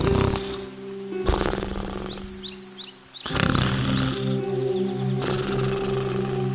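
Cartoon wolf asleep under a tree in a yard, snoring in a series of loud, rasping breaths repeating roughly every two seconds over a musical background.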